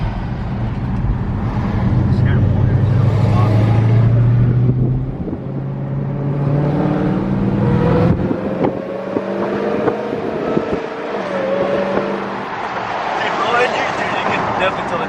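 A Dodge Hellcat with bolt-on upgrades, making about 660 hp, runs on a dyno. Its engine roars loudly and its drone rises in pitch as it pulls up through the revs, with wind buffeting and voices in the background.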